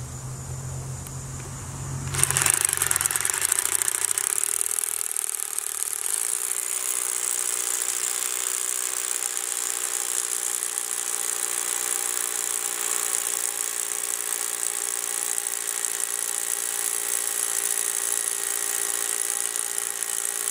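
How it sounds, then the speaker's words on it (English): A power drill fitted with a half inch bit bores into natural stone, starting abruptly and then holding a loud, steady high-pitched whine with a grinding edge for the rest of the clip. "Got the half inch one in there and we'll finish drilling."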